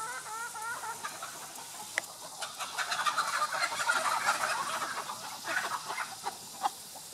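Chickens cluck in a poultry yard, a steady run of overlapping clucks and calls that sound fairly close, with a few louder sharp squawks breaking through.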